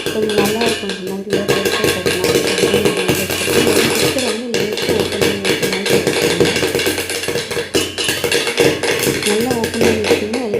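A snack fries in hot oil inside a covered pan, giving a loud, dense crackling and popping that runs throughout, with someone talking over it.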